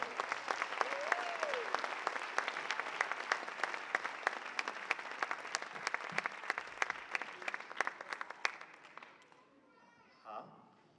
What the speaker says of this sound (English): Let's give a round of applause for all of our Hamana for their hard work.